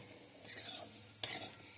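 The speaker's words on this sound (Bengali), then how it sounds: "আলুগুলো একটু ভাজা ভাজা করে নিয়েছি" Potatoes fry in a pan with a soft sizzle while a spoon stirs them, followed by two sharp scrapes or taps against the pan.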